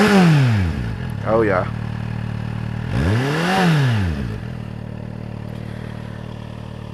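A Kawasaki Z800 motorcycle idles and revs twice through its exhaust, each blip rising and falling quickly over a steady idle, with a short spoken remark in between.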